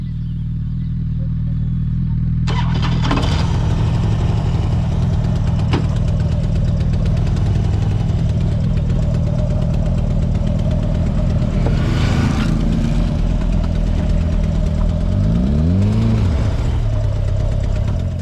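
A custom motorcycle engine on a small country road in the Ardèche rumbles loud and close throughout, a steady low drone with revving swells and a shift in pitch near the end.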